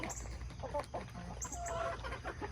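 Backyard chickens with a rooster cluck softly nearby at feeding time, giving short, close, warbling calls over a steady low background hum.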